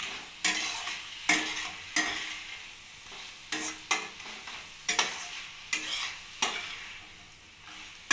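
Ilish fish head curry with ash gourd and chopped coriander stirred in a pan, sharp recurring scrapes of the spatula about once a second over a soft steady sizzle, close by.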